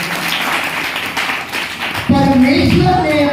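A church congregation claps hands during worship, a dense, rapid patter of many hands that carries on as a voice comes in loudly over it partway through.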